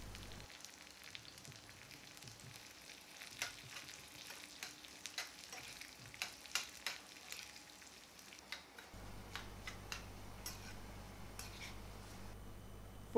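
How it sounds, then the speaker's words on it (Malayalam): Chopped small shallots and curry leaves fry softly in hot oil after mustard seeds pop, for a Kerala-style papaya prawn curry. A quiet, steady sizzle carries scattered crackles and pops, with a brief deeper stir partway through. "കടുക് പൊട്ടിക്കഴിയുമ്പോൾ അതിലേക്ക് ഒരു 4-5 ചെറിയ ഉള്ളി കട്ട് ചെയ്തതും കുറച്ച് കറിവേപ്പിലയും കൂടെ"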